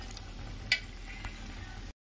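Soaked flattened rice is stirred into cooked potato and pointed gourd in a pan for chuda upma, a faint low scraping and shuffling with a couple of light utensil taps and a soft sizzle beneath.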